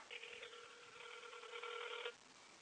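An outgoing telephone call rings once on the line: a single buzzy ring tone of about two seconds, heard faintly and alone before quiet line hiss.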